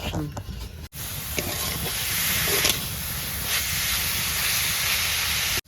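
Grated coconut fries in a wok with a steady close hiss and sizzle that continues after a brief cut, with people talking softly in the background.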